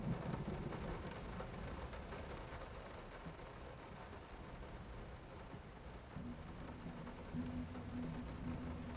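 Steady, dense rain pours throughout, with low thunder rumbling beneath it, in the horror game Layers of Fear. The storm is loud and constant, with a brief swell near the start and another near the end.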